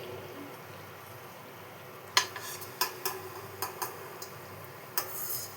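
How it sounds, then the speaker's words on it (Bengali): Onions frying in oil for piyaji: a faint steady hiss of hot oil broken by a handful of sharp, separate crackles and ticks, fairly quiet and without speech. "আর যেটুকুন আছে সেটুকুনো ভেজে নিচ্ছি"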